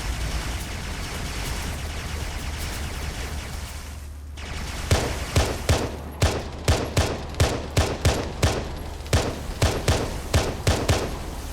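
Gunfire in the video game Halo Reach: after a wash of dense noise, a steady run of about a dozen loud, evenly spaced shots rings out, one after another.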